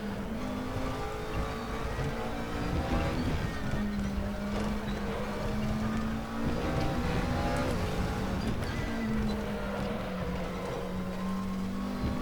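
A McLaren 12C GT3 race car on the Nürburgring Nordschleife in RaceRoom holds a loud, steady high-rev engine drone with brief lifts and gear changes, continuous throughout with no talking.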